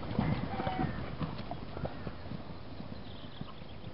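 Horse hooves clip-clop unevenly across farm ground, with occasional snorts and shuffling, fairly close, over a steady outdoor background.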